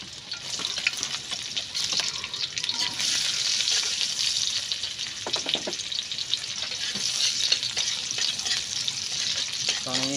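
Garlic and onion sauté in a pan in an outdoor dirty kitchen, a continuous close sizzle with scraping stirs and occasional clinks, no talking heard.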